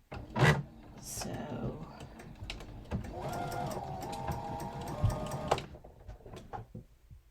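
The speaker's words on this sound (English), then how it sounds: "I'm going to do some double stitching back here where I'm starting" A sewing machine double-stitching the hem of a thrifted scarf, running in one steady, fairly quiet burst of about two and a half seconds, with soft handling clicks and rustles before and after.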